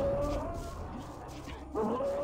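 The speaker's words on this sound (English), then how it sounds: "Oh, the sound of the orc dogs is." Orc dogs in Gothic 2 growl and snarl close by in a low, throaty, continuous rumble, swelling into a louder howling growl near the end.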